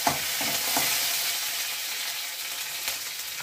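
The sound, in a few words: curry leaves frying and being stirred for wheat rava upma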